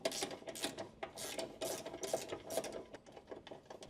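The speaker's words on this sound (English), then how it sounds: "Use a 17mm wrench together with a 17mm ratcheting wrench to remove the mounting bolt between the lateral control arm and the subframe." A 17mm ratcheting wrench loosening the mounting bolt between the lateral control arm and subframe on a 2007 Subaru Impreza GD, with a fast series of close, raspy ratchet clicks in repeated bursts.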